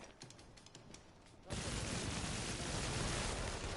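Faint clicking gives way to a sudden, dense burst of rapid machine-gun fire from the video game Infamous: Second Son that keeps going steadily.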